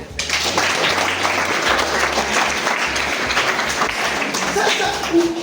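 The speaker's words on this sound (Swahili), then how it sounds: "Atupigie makofi." Congregation applauding in a church service in Nanyuki, steady dense clapping filling the whole stretch, with a voice speaking faintly underneath.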